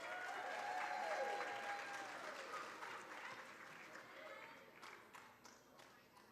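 Audience applause for fifth-grade students at a school board student recognition ceremony, a steady wash of clapping from a seated crowd that gradually thins out over several seconds.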